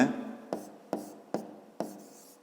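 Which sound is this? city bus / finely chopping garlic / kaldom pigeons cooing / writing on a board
writing on a board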